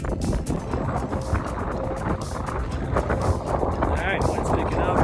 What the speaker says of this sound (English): Alright, wind's picking up.